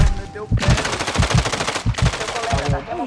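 Rapid bursts of automatic gunfire from Call of Duty: Warzone 2.0 rattle close and loud, two long strings of shots with a short gap between them.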